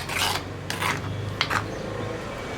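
Fresh spinach for a Kerala-style curry is cut with a knife, a few close raspy slicing strokes against a board with brief pauses between them, no voices.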